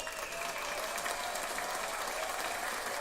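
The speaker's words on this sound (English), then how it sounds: "Yeah, another round of applause" Another round of applause from an audience, continuous dense clapping at a steady level from start to finish, with no voices standing out.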